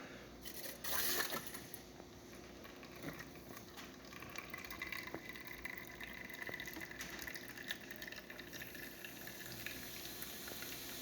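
A La Pavoni lever espresso machine, freshly serviced and tuned up, pulls a shot with a faint, steady watery trickle and gurgle, quiet and continuous, with a brief louder burst near the start.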